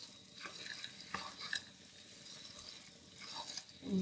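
Carrot halwa with walnuts, almonds and dried coconut being stirred and roasted in a pan, with soft scraping strokes and a faint sizzle, and a few sharper utensil clinks against the metal.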